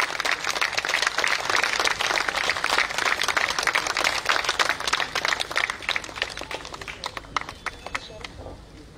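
A gathering of civil society members meeting the chief minister breaks into dense, lively applause that stays steady before gradually thinning out, with a little talk mixed in.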